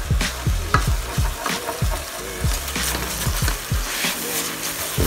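A spoon scraping browned bits from the bottom of a pot of beef barley and wild rice soup, with repeated rhythmic scrapes over a steady sizzle, close and loud.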